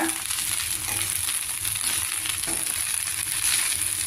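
Gongura leaves are stirred and fried in a pan, with a dense, continuous sizzle and crackle broken by repeated stirring scrapes.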